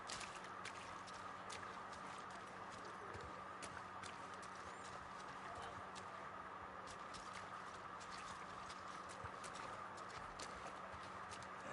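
Rhythmic clip-clop of horse hooves at a steady trot in The Last of Us Part II, crisp repeated strikes over a faint constant background hum, no speech.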